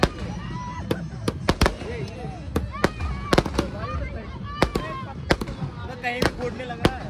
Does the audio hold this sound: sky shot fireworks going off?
yes